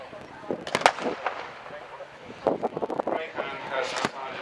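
Gunfire from an MG-42 machine gun and armoured cars at a Tankfest battle re-enactment: sharp, loud bursts and single shots ring out in two clusters, carried on outdoor wind, with a commentator's voice talking over the action.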